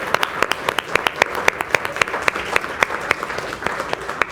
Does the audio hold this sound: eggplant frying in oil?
no